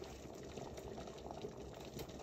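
A pot of salted water, about two and a half litres, simmers on the stove for spaghetti, a quiet, steady bubbling and hiss with soft irregular pops, faint throughout.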